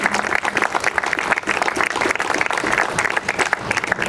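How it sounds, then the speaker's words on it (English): An audience at a conservatory ribbon-cutting gives a round of applause, dense clapping that holds steady for about four seconds. "If you wouldn't mind giving them a round of applause."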